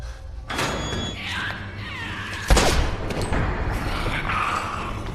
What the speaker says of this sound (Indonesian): suara tembakan yang menggelegar